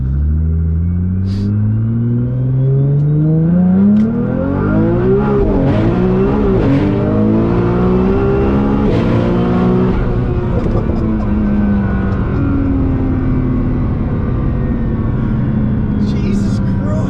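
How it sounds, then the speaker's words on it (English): A 1500hp Nissan R35 GT-R street car accelerates hard, its loud, close engine note climbing and dropping through several gear changes with a deep continuous rumble. "all I need to do is basically keep the car straight, get my foot on the accelerator, and it'll go straight and we'll drive"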